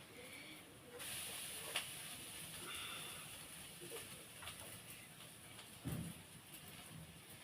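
Potatoes frying in a pan on a stove over a high flame give a steady, faint hiss and sizzle that runs almost the whole time. Light clinks of stirring break through twice.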